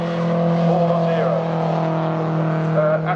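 An MG ZR race car at Silverstone holds a loud, steady engine drone at close range during the race, with a faint tyre squeal. A trackside commentator talks over it the whole time.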